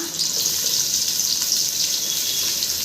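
Steady, loud sizzling of sliced onions frying in hot oil, a continuous crackling hiss with no talking.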